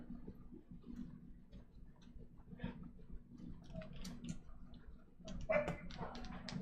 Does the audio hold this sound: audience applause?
no